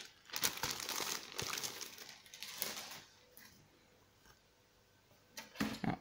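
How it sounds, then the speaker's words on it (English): A new Acer laptop replacement keyboard is pulled from its plastic packaging, with loud close crinkling and rustling of plastic in bursts, a quieter lull, then a final sharp crackle and no talk. "Remove from the plastic."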